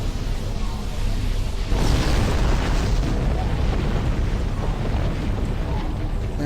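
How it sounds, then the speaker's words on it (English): Ship explosion in Star Trek Online, a decoy vessel destroyed during combat: a loud, broad booming blast that swells near the start and rumbles on as a sustained roar of debris and noise throughout. "Another decoy ship destroyed."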